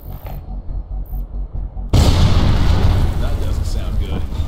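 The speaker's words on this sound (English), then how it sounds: "We'll blow the charges when we've got some distance." C4 charges detonating inside a cave in the video game Sniper Ghost Warrior 2: after a quiet stretch, a sudden massive blast erupts and rolls into a sustained, loud rumbling roar that lasts several seconds.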